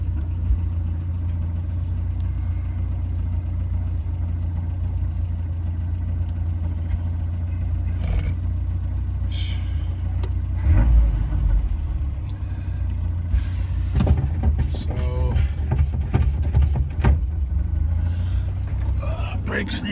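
A 1983 Mazda B2000 pickup engine with a freshly swapped Weber carburetor runs at a steady low rumbling idle, loud and close, with someone talking over it and occasional clanks.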